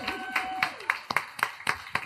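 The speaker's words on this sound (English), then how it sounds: "can I get one last round of applause for our discussion panel?" A small audience applauds a discussion panel at an event about queer communities, with scattered, fairly sparse claps in a loose rhythm, heard at moderate distance.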